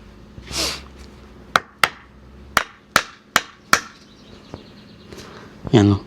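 Hammer strikes drive nails into a DIY wooden bench: six sharp, separate blows spaced about half a second to a second apart, loud and close, with brief rustling before and a clatter at the end.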